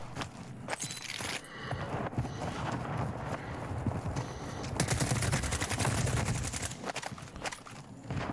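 Rapid automatic gunfire from a gun in the video game Warzone 2, set in Al Mazrah, comes in dense crackling bursts that grow into a sustained, loud stream of shots midway through.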